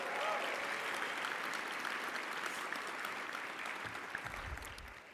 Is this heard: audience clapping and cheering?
yes